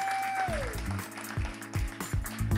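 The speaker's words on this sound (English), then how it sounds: "let's have one more round of applause for Adam and all of our speakers" Applause from the audience at a Nerd Nite astronomy talk night in a bar, heard briefly after a fading tone, with low thumps and a steady crowd noise filling the short moment.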